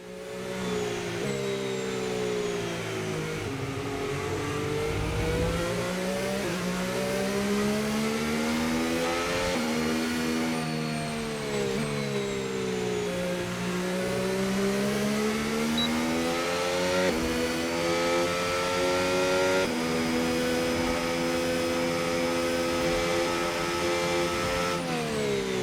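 Race car engine in the F1 25 game, a Williams car at the Singapore GP during practice, droning steadily through laps with rising and falling pitch as it accelerates, shifts and brakes, loud and continuous with no talk.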